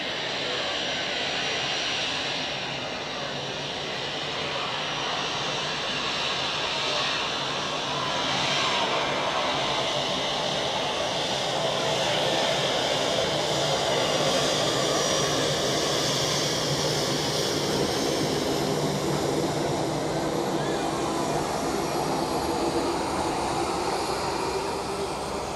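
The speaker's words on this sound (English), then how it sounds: "we have the Edelweiss A320 with the Help Alliance livery taxiing close by" An Edelweiss Airbus A320 taxiing close by at Zurich Airport, a steady loud jet engine roar with a broad rushing hiss that holds constant throughout with little change in level.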